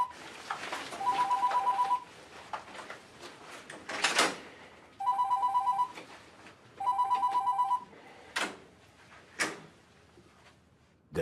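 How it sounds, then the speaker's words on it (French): A telephone rings in three separate bursts of electronic trilling, each lasting about a second, with soft household knocks and door-like clunks between them, in a French TV drama scene. "ton téléphone sonne"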